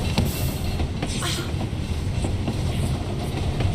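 A train in the James Bond 007: Blood Stone video game rumbles along with a continuous loud roar and faint rhythmic clatter of wheels on rails. No voices.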